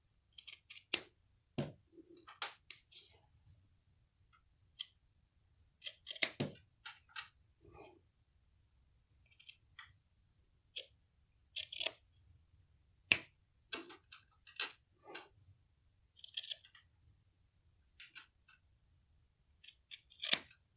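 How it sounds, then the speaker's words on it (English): Scissors snip through dreamcatcher strings in a quiet room, a series of crisp, close, irregularly spaced cuts with soft handling noises between them. "I'm gonna trim these like I do with the other ones at the bottom"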